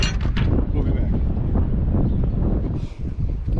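Strong wind blows outdoors in a farm setting during repair work on a Kewanee disc gang, a loud, continuous roaring buffet with gusty surges across the whole stretch, close and dominating.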